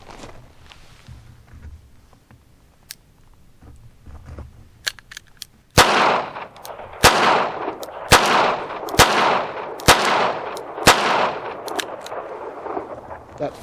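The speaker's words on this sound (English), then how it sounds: "I'm gonna shoot this double action." A Charter Arms Pit Bull .380 ACP revolver fires five loud double-action shots outdoors at roughly one-second intervals, each a sharp crack with a ringing tail, after a quieter stretch of faint ambient noise.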